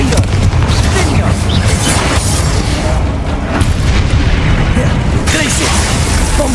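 Spell blasts thunder through a duel in Hogwarts Legacy, a run of heavy booms and bursts in quick succession with shouted incantations layered over the impacts.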